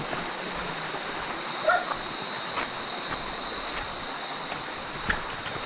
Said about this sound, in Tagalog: Bakit may aso dito?